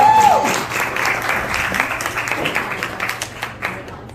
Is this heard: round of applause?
yes